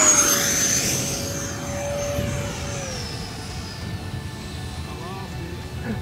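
An E-flite F-15 electric ducted fan RC jet whines past, its steady high-pitched fan tone falling in pitch as it goes by at a distance, with wind and outdoor noise underneath.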